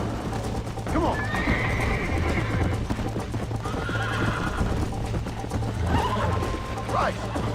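In the Red Dead Redemption video game, a horse gallops with steady clip-clop hoofbeats and lets out several whinnying neighs, with a voice talking alongside.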